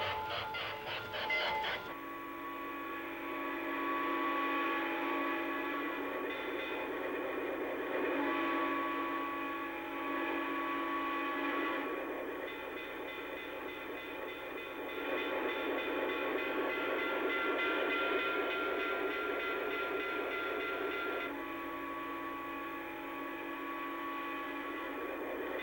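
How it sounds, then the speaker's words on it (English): Steady mechanical Lionel model train rail sound effects, rumble with rhythmic clicking and humming tones, continuous and fairly loud throughout, with no voices. "The sounds you are hearing are not from the real trains. They are Lionel rail sounds."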